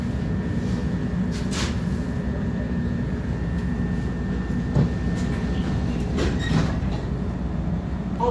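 Chicago L Orange Line train heading to Midway, a steady loud rumble of rolling rail cars with faint clickety-clack joints, heard from inside the moving train.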